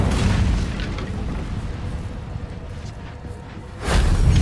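An Incendio fire spell cast in Hogwarts Legacy, a loud booming burst that dies away into a sustained rumble, then a second strong whoosh near the end.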